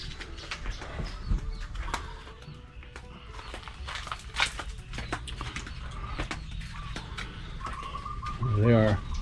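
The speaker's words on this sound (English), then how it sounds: "I want to say good morning to the birds." Pigeons or doves cooing outdoors in the morning after overnight rain, soft repeated coos scattered among ambient noise and small clatters, with a short rougher burst near the end.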